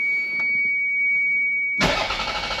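A Toyota MR2 with a 2GR V6 engine, freshly fitted with a new alternator, starting after months of sitting: a steady high whine, then the engine suddenly catches with a loud roar and settles into a rough idle.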